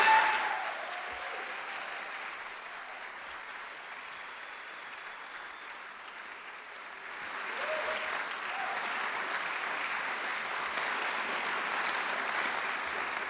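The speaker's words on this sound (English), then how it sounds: "Please help me welcome her with a warm round of applause" Steady applause from a lecture audience welcoming Donna Brazile to the stage, filling the hall for about thirteen seconds. It dips slightly midway, then swells again a little fuller and keeps going without any talk.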